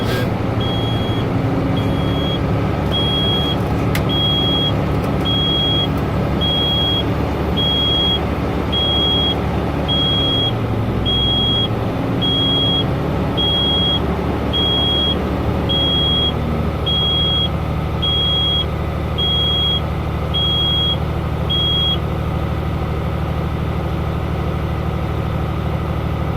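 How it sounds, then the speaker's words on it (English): A truck engine runs in the cab to build air brake pressure, a steady, loud low drone, with a high beeping tone repeating at regular intervals for most of the stretch before stopping. "I'm gonna build pressure to at least 100 psi to do my parking and service brake test. So I just rev up the engine."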